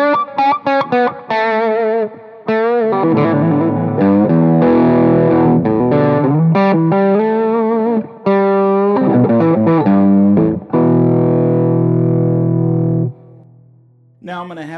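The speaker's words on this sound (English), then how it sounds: "Let's hear what the amp sounds like with the ultimate attenuator bypassed." Electric guitar on the bridge pickup through a Plexi-style amp with the attenuator bypassed, master at half, playing distorted riffs and sustained chords with short pauses between phrases, loud and close.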